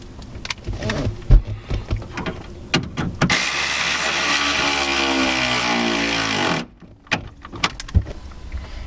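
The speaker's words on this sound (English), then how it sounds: "now with our ground wire installed, we can just screw back in the bolt" A bolt is screwed back in with a ratchet after a ground wire is attached, during a stereo receiver and subwoofer install in a 1999 Ford Mustang GT. A steady mechanical whir lasts about three seconds, framed by scattered clicks and handling knocks.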